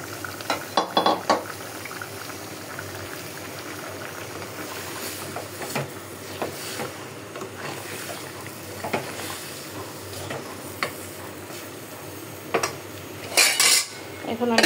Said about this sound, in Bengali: আমি এখন জালি কুমড়াটা দিয়ে দেব।